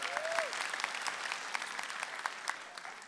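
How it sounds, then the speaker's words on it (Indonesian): Fairly soft applause from a stand-up comedy show audience, with dense clapping spread across the room and a short whistle near the start, continuing steadily for about three seconds. "Boleh tepuk tangan untuk Aan Mansur."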